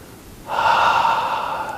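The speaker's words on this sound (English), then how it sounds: "Breathing in. Breathing out." Slow, steady breath during a qigong exercise, one long airy exhalation rising after a short pause and held for over a second, close and clear with no talking.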